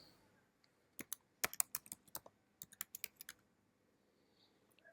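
A passphrase is typed on a computer keyboard while generating AWS public and private keys: quiet, close, irregular bursts of key clicks in quick clusters, with no talking.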